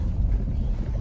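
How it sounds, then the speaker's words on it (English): Wind buffeting the microphone outdoors on a chilly morning before a half marathon, a steady low rumbling roar throughout a short moment with no talking. "It's pretty chilly, very windy"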